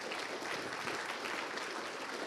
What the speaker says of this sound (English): So I would like to give a big round of applause to Ben and Bryn and company for their support.